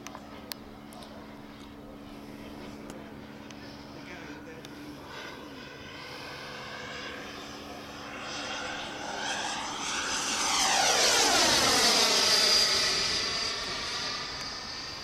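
An electric ducted fan model of a De Havilland Vampire jet makes a low pass, its whine swelling from a distant hiss to a loud, Doppler-shifted whoosh that peaks and then recedes.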